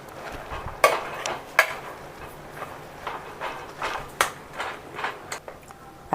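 Cooked pumpkin with heated spice paste being mashed in a pot: a series of sharp knocks and scrapes, close and fairly regular, about one every half second, over a quiet room background.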